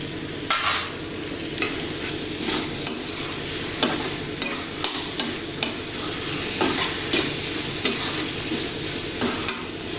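A potato dish being stirred and mixed in a frying pan, with continuous sizzling under repeated scraping and clattering strokes of the spoon against the pan throughout.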